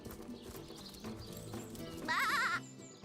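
Sheep bleating in the fantasy role-playing game Divinity: Original Sin, a short wavering bleat over game music and ambience near the end.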